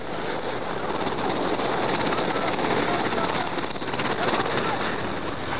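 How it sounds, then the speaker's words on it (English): A rescue helicopter's engine and rotor roar steadily and loudly in the Scottish mountains, a dense, unbroken wash of noise that neither fades nor pauses. "if it weren't for the noise of the engine, the team might not have even found the helicopter"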